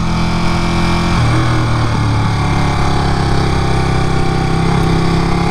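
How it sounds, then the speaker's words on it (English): A 2018 Ducati Panigale motorcycle engine runs loud and close, idling with a steady throb and rising briefly in pitch as the throttle is blipped, with no talking. "let's give this thing a little bit of gas."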